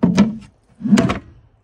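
Two firm thunks as a sliding drawer on a slider runner in a Toyota HiAce 4WD campervan is pushed shut, each a short wooden knock with a slight rattle, close and clear.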